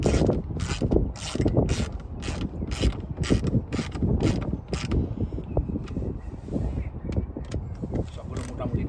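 Screws being tightened on the air filter housing of a Mercedes-Benz CLS 500 AMG, a run of sharp ratcheting clicks repeating close by at a steady pace, then fainter scattered ticks, with mechanical rattling underneath.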